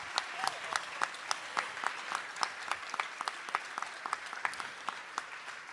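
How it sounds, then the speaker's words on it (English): A small group claps in scattered, uneven bursts, fairly quiet and a little distant. "we should clap for them"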